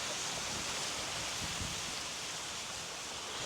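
Spring water gushing out of the ground from inside a mountain above a cove near Bodrum, a steady broadband rush with no breaks, moderately close and continuous throughout.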